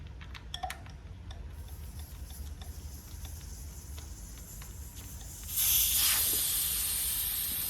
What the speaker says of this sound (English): release all the air from this tube